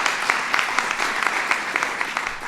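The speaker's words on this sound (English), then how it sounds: "let's give her a round of applause" Applause from an audience at a health insurance reform event for older women, a dense, steady patter of many hands clapping at moderate distance with no voices over it.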